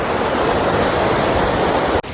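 A river near hot springs in Peru rushes past in a loud, steady roar of flowing water, close to the microphone, cutting off abruptly near the end.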